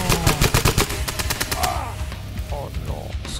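Rapid machine-gun bursts in a video game, loud close volleys of sharp shots in quick rhythm early on, thinning to scattered fire with game noise and faint voices afterward.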